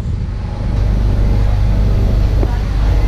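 Steady low rumble and hiss of CNG being filled into an older-model Maruti Swift at a fuel station, a continuous loud drone with no distinct breaks.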